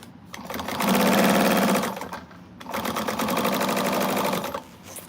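A sewing machine stitches a quilt seam in two loud, steady runs of rapid mechanical whirring, with a brief pause between them, close to the microphone.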